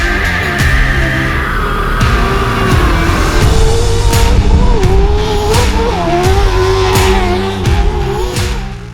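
Weller Racing SR-1 race car at speed on a track in Victorville, California, loud engine revving up and down through gear changes with sharp shifts and a rising, falling whine, close and continuous.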